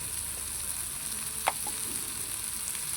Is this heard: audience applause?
no